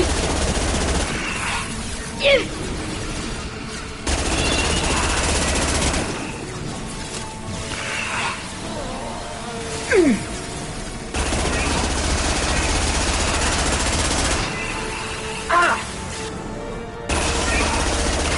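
Bursts of gunfire in the Mass Effect 2 video game, repeated volleys with short loud cracks spread across the clip, mixed with game effects and no clear speech.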